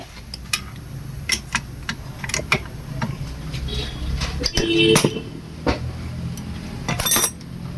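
A size 19 box spanner loosens the panel bolts on an Activa scooter during a belt repair. Scattered sharp metallic clicks and taps sound close by, some isolated and some in quick clusters, over a low background hum.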